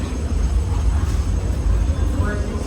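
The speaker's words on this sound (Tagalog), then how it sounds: "Ayan ang tren, madagong-tong yung tren sa taas." A continuous low rumble and rattle of a train rolling past on an elevated track near a station in Hsinchu, Taiwan, steady and loud throughout, with a faint voice underneath.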